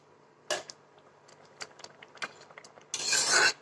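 A spoon scrapes and stirs rice and milk pudding (kheer) in a pot, giving irregular close scraping strokes with a louder sustained rasp near the end.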